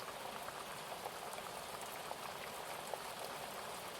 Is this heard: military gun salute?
no